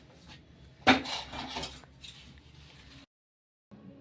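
Cooking vessels being scrubbed in a home kitchen, with metallic clinks and scraping of pots and utensils, one sharp clang early, then quieter rubbing before a short silence.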